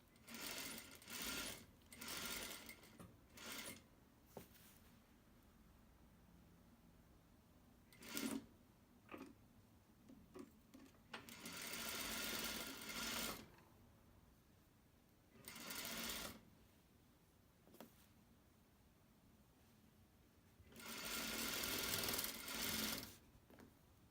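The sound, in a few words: sewing machine stitching fabric with back tack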